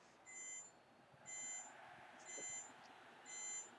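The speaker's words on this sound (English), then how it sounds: "There's a timer ringing." A wake-up timer rings in the background, a faint, high electronic beeping in four evenly spaced bursts of rapid pulses, each about half a second long, against quiet room tone.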